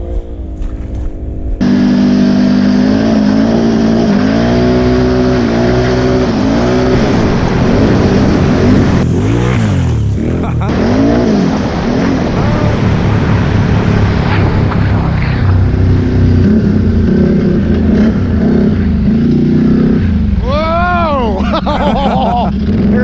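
A 2019 Ram Rebel pickup on System 3 XM310 mud tires, its engine revving loudly and continuously with rising and falling pitch as it accelerates, while people talk and exclaim inside the cab.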